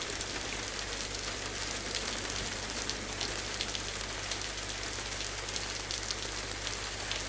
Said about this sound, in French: il y a la pluie, donc aucune raison de sortir en vrai